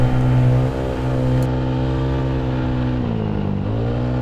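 A Yamaha Mio 63BV scooter engine, in its break-in period, revs steadily while riding a wet, slippery mountain road, the harmonic engine drone holding loud and even, then dipping and rising again near the end.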